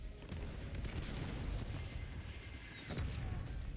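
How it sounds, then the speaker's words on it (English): Grenades explode in Black Ops 7, a dense run of booms and bursts rolling together as continuous gunfire-like crackle, with a stronger blast near the end, fairly quiet overall. "There's a bunch of grenades."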